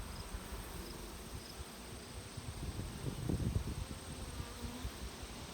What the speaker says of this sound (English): And is absolutely packed with bees.